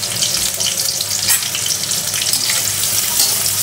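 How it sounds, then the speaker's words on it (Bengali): Onions sizzling steadily in hot oil in a pan, the start of a liver curry with cardamom, a continuous close hiss of frying with no talk. "এখন দিয়ে দিচ্ছি পেঁয়াজ। পেঁয়াজগুলো বেশ একটু বাদামি করে ভাজবো।"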